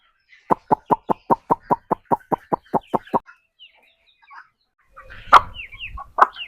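Country chicken chicks give a rapid run of about a dozen evenly spaced clucks up close, then a pause before a few louder, rougher squawks and rustling near the end.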